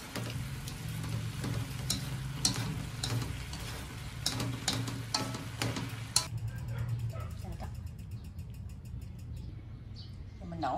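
Rice noodles with green beans and carrots being stir-fried, a moderate sizzle with clicking utensil scrapes and tosses in the pan, then quieting toward the end, with someone talking over it.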